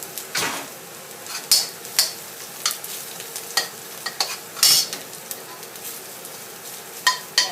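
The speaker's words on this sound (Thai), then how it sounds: "เขาสิเจียวกระเทียมให้มันเหลืองก่อนนะคะ" Stirring and scraping as garlic fries in pork fat in a hot pan with a steady sizzle underneath, irregular utensil clacks recurring every half second or so, no talking.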